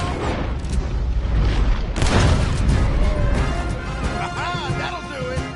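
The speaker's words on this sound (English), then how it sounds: "Try to shoot it off!" Gunshots and a booming explosion in Red Dead Redemption 2 during a roadblock chase, a heavy crash about two seconds in with rumbling debris, close and loud, while characters shout over it.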